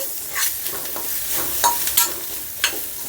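A spoon scrapes and stirs thick masala for chicken Maggi noodles in a hot pan, with a steady low sizzle and a few sharper clinks of utensil against metal.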